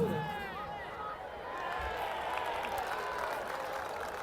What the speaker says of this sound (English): Much to the applause of the crowd,